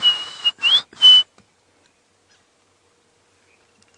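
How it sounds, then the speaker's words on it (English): A robin on an African safari sings three short, clear whistled phrases in quick succession, near and bright, followed by near silence. "Robin going."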